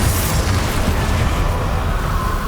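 A Bombarda spell explosion from the Hogwarts Legacy video game, a loud, dense boom with a rumbling tail that fills the whole moment.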